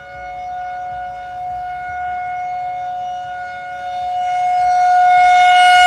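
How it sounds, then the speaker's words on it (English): A loud tornado siren test wails with a steady sustained tone, growing louder and brighter as it goes on. "This is the test of the tornado sirens."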